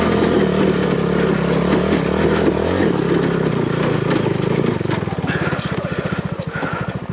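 A loud motorcycle engine labors and revs nearby while climbing a hill, its chugging steady, then turning into a pulsing, lower putter toward the end.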